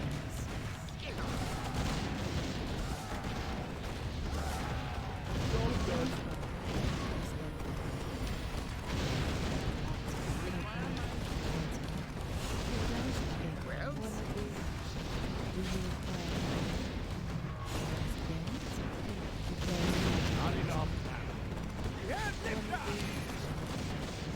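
Mortar teams firing in a fantasy strategy video game battle, a dense, continuous barrage of booming blasts and clattering impacts, with a voice talking over the game sounds.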